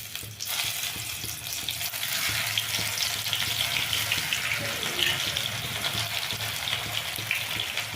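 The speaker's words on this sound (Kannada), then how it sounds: "ಈಗ ಇದನ್ನು ಎಣ್ಣೆಗೆ ಹಾಕ್ತಾಯಿದ್ದೀನಿ ನಾನು" Baby corn snack pieces drop into hot oil and start frying, giving a loud, steady bubbling sizzle that fills the scene from the first moment, with no talking.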